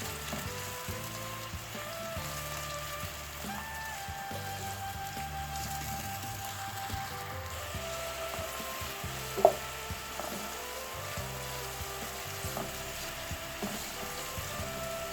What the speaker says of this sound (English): Just going to add the chopped onion and the garlic together. So I'm going to stir fry this for 2 minutes